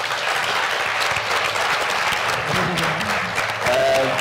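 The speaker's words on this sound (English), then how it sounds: "I would like to have an applause for our marvelous panel" An audience at a literature panel event claps steadily for the panel, a continuous dense burst of applause that swells slightly near the end.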